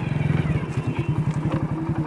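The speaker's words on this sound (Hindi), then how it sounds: "और बाइक को इधर खड़ा कर देते हैं" Motorcycle engine idling up close while the bike is brought to a stop for parking, a steady rapid thumping putter with faint clatter.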